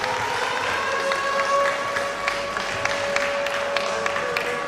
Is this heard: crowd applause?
yes